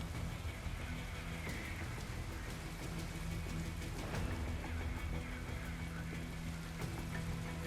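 Steady rain falls in a video game, a dense even hiss of drops with faint patters, continuous and moderately loud throughout.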